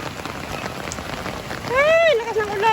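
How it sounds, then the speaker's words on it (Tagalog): Heavy monsoon rain pouring down near a roadside shop, a dense steady hiss of drops on surfaces, with a brief sliding tonal sound like a distant call near the end. "Ay, lakas ng ulan, lakas ng ulan."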